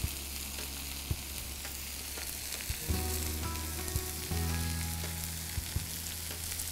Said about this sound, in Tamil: இது வந்து வெந்தய கீரை சேர்த்ததுக்கப்புறம் அதிக நேரம் ஃப்ரை பண்ணக்கூடாதுங்க.